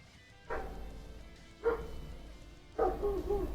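A dog barks at a neighbouring house, three separate barks spaced about a second apart, moderately loud over a low steady background hum.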